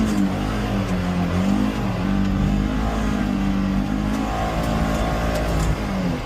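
A Polaris NorthStar Xpedition UTV engine runs steadily and loudly up close, its low drone rising and falling as it accelerates over a rough, rumbling background, with no talking.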